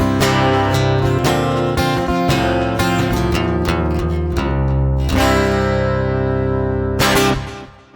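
PRS SE Hollowbody II guitar heard through its piezo pickup, strummed chords ringing bright and full in a continuous flowing passage that fades at the end; close and loud, with no talking.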